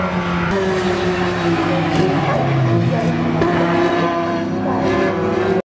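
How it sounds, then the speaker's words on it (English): Tube frame pickup trucks racing past on a road course, engines roaring loudly and continuously with shifting pitch as they pass nearby, a sustained motor drone filling the whole span before cutting off abruptly at the end. "you'll see these tube frame pickup trucks flying by me"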